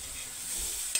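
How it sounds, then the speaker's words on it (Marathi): Chopped tomatoes and fenugreek greens cook in a pan, giving a short, steady, soft sizzling hiss that ends in a single sharp click of a spoon. "असं टमाटर फिरून फिरून घ्यायचं बारीक करून मस्त."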